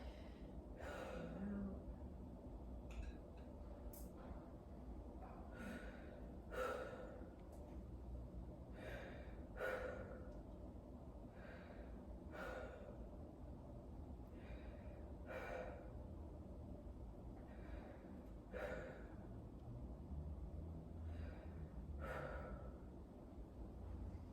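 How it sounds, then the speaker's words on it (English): A patient breathes deeply in and out during a lung exam, with repeated soft, airy breaths at a slow, regular pace. They are faint and close against a low steady background. "listening to one full cycle of inspiration and expiration"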